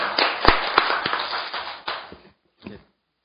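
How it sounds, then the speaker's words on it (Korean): Applause from an audience at a Korean forum on US–Japan–Korea military cooperation, a dense burst of clapping with sharp individual claps that fades after about two seconds, followed by a brief faint patter. "다시 한번 큰 박수 한번 부탁드리겠습니다"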